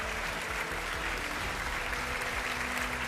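Studio audience applause at a televised political debate show, a dense, even patter of many hands clapping continuously at moderate volume.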